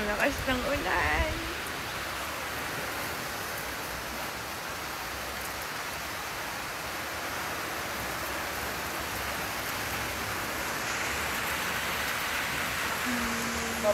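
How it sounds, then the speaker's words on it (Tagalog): Heavy rain pours steadily in a dense, constant hiss that holds unbroken from start to finish, with a brief moment of voices near the beginning. "Ay, sobrang lakas ng ulan."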